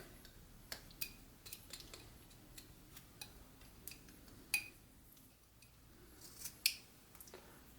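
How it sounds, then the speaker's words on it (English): Carving knife whittling a wooden figure, paring wood away up to a stop cut along the hairline: faint, sparse clicks and small scraping cuts scattered over a quiet background, no talking. "I come back in and remove some wood up to that stop cut"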